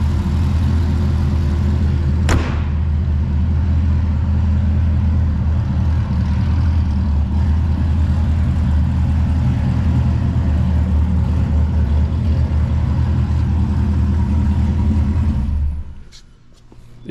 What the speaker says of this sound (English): Car sounds really good and it runs really well.